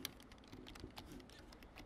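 Light, quick keystrokes tap on a computer keyboard in a soft, uneven patter, faint and close with no talk.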